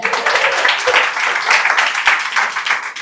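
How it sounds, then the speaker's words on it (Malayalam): A live comedy crowd applauding an audience member, with sustained clapping from many hands that stays loud and dense throughout and fades slightly toward the end. "പുള്ളിക്കൊരു കയ്യടി കൊടുക്കും"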